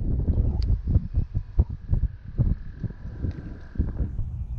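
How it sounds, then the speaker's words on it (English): Steady wind of about 12 mph buffeting outdoors while fishing, a low rumbling roar with gusty surges and a faint high tone lingering in the background. "Kind of windy today."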